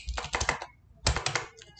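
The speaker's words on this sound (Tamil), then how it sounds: "எந்த இடத்துல உங்களுக்கு டெக்ஸ்ட் வேணுமோ நீங்கள் டைப் பண்ணிக்கலாம்" Fingers typing on a computer keyboard in two quick bursts of clicking keystrokes, close and distinct, separated by a short pause.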